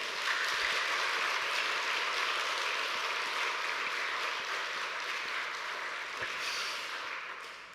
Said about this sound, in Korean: 우리 성일교회의 특징은 박수가 길다는 것입니다.